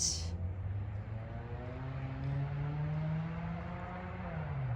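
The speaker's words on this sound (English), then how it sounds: "there's a loud car going by." A loud car going by near a backyard pond in the early morning, a steady engine roar with a rising, sliding pitch that holds through the whole stretch, close and prominent with no talk over it.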